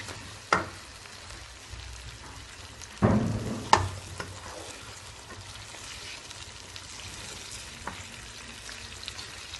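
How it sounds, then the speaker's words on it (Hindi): Chicken frying in a pot with spices, a soft steady sizzle running throughout, broken by a few louder clatters and stirring bursts near the start and middle. "अब मैं इसमें चिकन ऐड कर रही हूँ और मैं इसको अच्छी तरह फ्राई करूँगी।"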